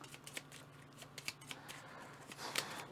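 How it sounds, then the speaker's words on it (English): Cards shuffled during an Outpost board game session, a quick run of soft riffling flicks and snaps, faint and close, with no talk. "I have to shuffle."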